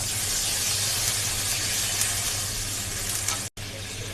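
Hot water poured into sizzling fried spice paste in a pan for a drumstick and tangra fish curry, making a loud, continuous hiss and bubbling close by, with a brief cut near the end.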